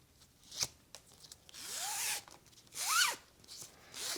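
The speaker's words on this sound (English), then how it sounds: "zip it up" A zipper on a handmade sewn sling crossbody bag is pulled in several quick, close rasping strokes separated by short pauses, with faint handling sounds in between.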